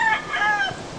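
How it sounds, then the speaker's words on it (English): A rooster crows in the morning on Kauai, Hawaii, one clear cock-a-doodle-doo, fairly close and loud over quiet outdoor background. "I'm sure you can hear that rooster in the background."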